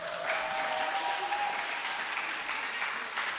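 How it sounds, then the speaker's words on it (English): Audience applause at an Asian and Pacific Islander American Heritage Month event after a high school Pacific Islander club performance, a steady round of clapping with a brief tonal sound near the start. "Please give them another round of applause."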